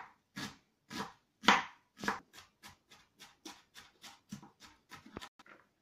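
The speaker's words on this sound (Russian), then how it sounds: "Так, теперь мелко нарежем лук" A knife finely chops onion rapidly on a board, a quick series of about fifteen sharp, even taps, close and crisp with no talking.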